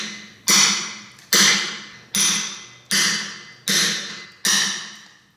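A bushing chisel held perpendicular to a stone surface takes six evenly spaced hammer blows, each a sharp ringing strike that fades out before the next, close and loud with no talking.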